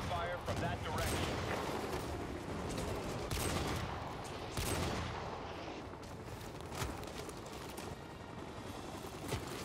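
Continuous battlefield gunfire from Modern Warfare 2 Remastered, a dense fusillade of rapid shots and bursts with occasional louder cracks, steady and loud throughout with no clear pauses.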